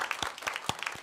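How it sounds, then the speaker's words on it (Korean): A church congregation at a Sunday worship service claps in steady, even applause, a moderately loud crowd sound from the pews with no speech over it. "우리 격려 박수, 감사 박수."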